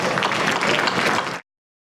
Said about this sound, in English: Again, another round of applause for the candidates.